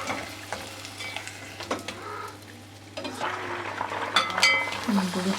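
Fried halka dessert pieces go into cold syrup with scattered sizzling, stirring and liquid splashes, growing busier toward the end, with quiet talk in the background.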